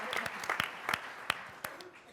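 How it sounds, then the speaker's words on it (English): Audience applause closing a session at an opera conference, scattered and thinning, with a few distinct sharp claps and a voice speaking under them. "Final applause."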